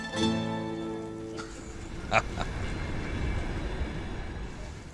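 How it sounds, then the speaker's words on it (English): A train rides on rails, giving a continuous low rumble and rattle, with a sustained tone fading at the start and a brief metallic clank midway. "We've been on the train for about 12 hours."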